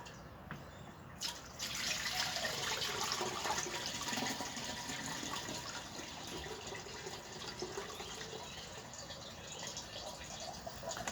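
Beer pouring steadily into a container, a continuous splashing gush that starts after a brief clatter and runs on for several seconds.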